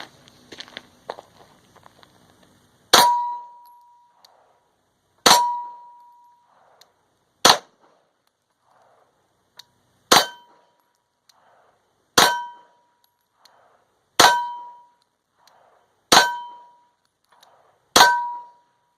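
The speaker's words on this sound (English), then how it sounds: "Shooting the steel at around 10 yards." A Sig Sauer P226 Legion SAO pistol fires lead-free rounds at steel targets about 10 yards away, eight sharp shots spaced a couple of seconds apart, each followed by a ringing metallic clang.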